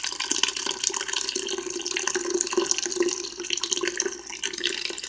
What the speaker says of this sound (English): What I do is fill this pitcher up, put some fresh water in